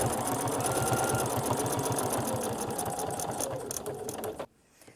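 A sewing machine stitches steadily along a quilting ruler in free-motion quilting, its rapid needle clatter close and continuous for about four and a half seconds before stopping abruptly.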